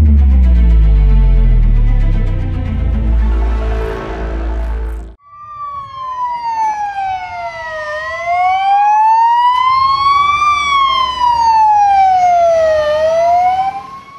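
Fire engine sirens at a fire service firefighting exercise in an industrial area: a loud, heavy engine roar first, then several wailing sirens rising and falling in overlapping sweeps, close and continuous.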